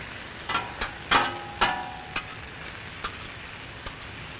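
Thin-sliced cheesesteak beef sizzles on a hot griddle with a constant hiss, punctuated by several sharp metallic clacks and scrapes as tongs pull the meat apart, the taps spacing out and growing fainter.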